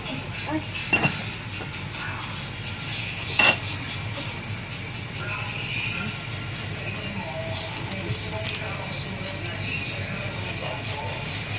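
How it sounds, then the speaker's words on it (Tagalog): Someone cleans a cooking pot, and metal and dishes clink and clatter sporadically. A few sharper knocks stand out over a low kitchen background while people talk. "Lumisan mo ng kaldero."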